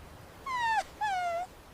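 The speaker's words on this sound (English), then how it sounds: "it sounds like a puppy" Two drawn-out, high puppy whimpers, each a wavering whine under a second long, close and clear over a faint quiet background.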